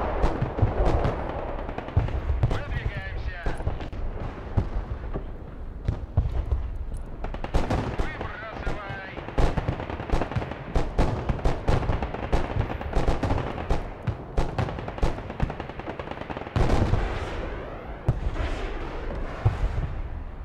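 Rapid gunfire and heavy artillery blasts from units fighting in the military strategy game Broken Arrow, dense bursts of shots and booms repeating continuously throughout at close range.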